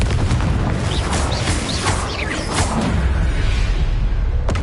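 Fire spell blast in the Hogwarts Legacy video game, a loud booming burst with whooshing sweeps, full and continuous through the clip with a sharp crack near the end.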